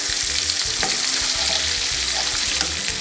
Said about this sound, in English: bacon's cooking. And I'm just about to add the onions.